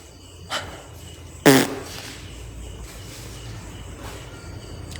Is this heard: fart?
yes